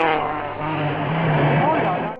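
A rally car at the Citroën Rally in France roars past close by, its engine loud and sustained for a couple of seconds before cutting off.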